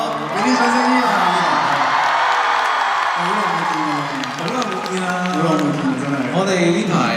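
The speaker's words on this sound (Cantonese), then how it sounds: "俾啲掌聲先啊！" A big concert crowd at a show in 2025 screams and cheers loudly and without a break, with high, wailing voices over a steady roar.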